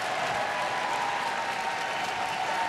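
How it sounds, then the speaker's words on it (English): A sellout crowd applauds at a dog show during terrier group judging, steady dense clapping that fills the whole stretch evenly and loudly, with no pauses. "This West Highland White Terrier getting a good reaction from the crowd"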